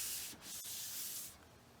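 Hand-sanding a drywall skim coat on a repaired wall: a close, soft abrasive rubbing with a long stroke, a brief pause, then another steady scraping pass.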